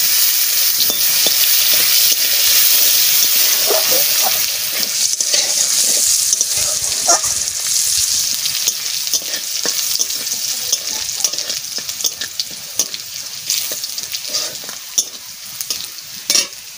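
Garlic and cumin fry in hot mustard oil in a close, steady, loud sizzle, with scraping stir strokes and crackling pops scattered throughout and no talking.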